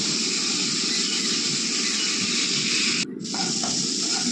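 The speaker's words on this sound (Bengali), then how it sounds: "তারপরে দিয়ে দিলাম ভিজিয়ে রাখা মুগ ডাল, নাড়াচাড়া করে নিচ্ছি" Soaked moong dal sizzles loudly and steadily in a hot pan while being stirred for oats khichuri, a dense continuous hiss with a brief dip near the end.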